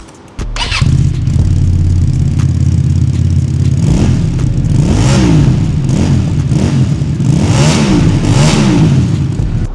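A QJ Motor SRV250AMT automatic cruiser motorcycle starts with a sudden catch, then idles and revs in several rising and falling bursts, close and loud, with no talking.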